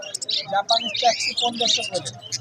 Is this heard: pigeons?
yes